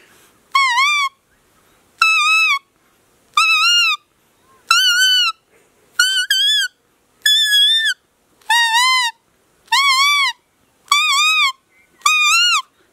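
A person whistles an imitation of the Asian koel's call, about ten rising, bright notes at a fairly even spacing, loud and close against an otherwise quiet background.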